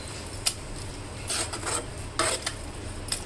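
Egg being stirred with chopped capsicum, cauliflower and carrot in a pan, a soft, low scraping and stirring texture with a few light metallic clinks of a utensil against the pan, faint and with no talk.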